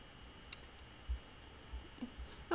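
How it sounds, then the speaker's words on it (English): A mouse button clicks in SPSS to confirm an OK dialog, a faint short tick against a quiet room, with another soft click near the end. "Click OK."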